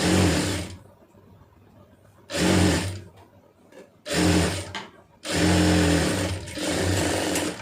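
A sewing machine stitches a saree in three loud bursts of rapid mechanical whirring, separated by quieter pauses with faint handling noise.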